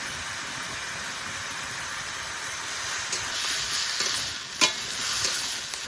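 Chopped bottle gourd frying in a pan with salt and slit green chillies gives a steady hissing sizzle, with a few louder stirring scrapes toward the end and no talk.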